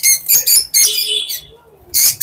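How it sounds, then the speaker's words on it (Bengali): Lovebirds kept for sale chirp nearby in loud, sharp bursts, a few quick tweets at a time separated by short pauses. "এখানে লাভবার্ড পাখি আছে, কিছু অফারে দেবো পাখিগুলো"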